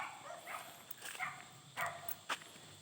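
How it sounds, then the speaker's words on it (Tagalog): Several dogs bark at a hillside spot, a few short sharp barks, fairly distant and faint over quiet outdoor background. "Maraming aso dito."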